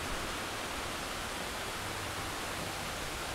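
Waterfall in Thailand, a steady broadband roar of falling water heard close and loud with no letup and no voices.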